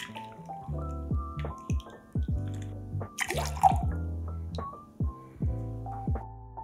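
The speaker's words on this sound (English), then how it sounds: "Next, we're gonna add 1 ounce of freshly squeezed lemon juice." Freshly squeezed lemon juice is poured into a cocktail shaker that already holds gin, close up, with a run of small, rhythmic drips and splashes of liquid.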